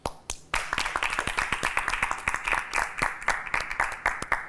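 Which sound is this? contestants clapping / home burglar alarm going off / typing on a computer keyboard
contestants clapping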